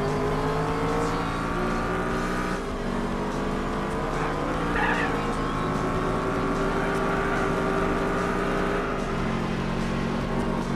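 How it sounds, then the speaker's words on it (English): A Shelby Cobra racing in Gran Turismo 4 with nitrous boost engaged, its engine droning loud and close with rising and falling pitch through gear changes, a brief squeal midway, and other cars audible nearby. "And on to the nitrous."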